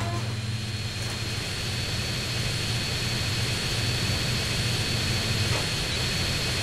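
A steady, droning airplane engine in the game GTA San Andreas hums continuously at an even loudness, with a low rumble and a faint high whine.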